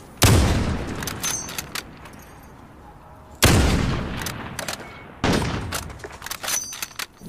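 Three loud, sharp gunshots ring out from a Modern Warfare match on Xbox One as rounds are fired through a wall, each with a long rumbling tail and irregular gaps between them.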